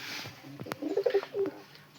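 Pigeons coo several times, soft and fairly close, in short throaty bursts over a quiet background, with no talking.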